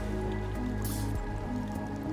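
Rain falls steadily over a survival settlement in the video game Endzone: A World Apart, a continuous patter of drips layered over a soft, droning game soundtrack.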